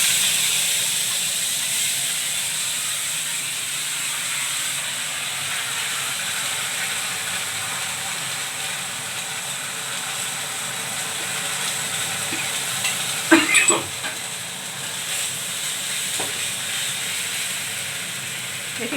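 A paste of ginger, cumin and chili fries in a pan as a steady hiss and sizzle, with a brief burst of stirring clatter partway through.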